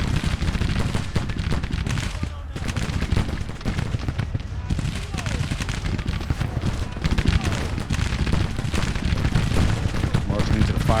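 Grand Tactician Civil War battle with dense musket volleys and booming artillery fire, continuous loud crackling gunfire with heavy thumps throughout.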